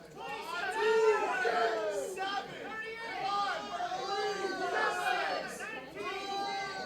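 Crowd at a live wrestling match during the referee's count, with loud, sustained cheering, chatter and shouting that swells and holds steady throughout.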